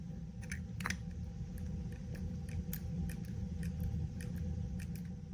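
3D-printed silent clicker fidget toy being clicked, soft muted ticks in an irregular series over a low steady hum, quiet and close.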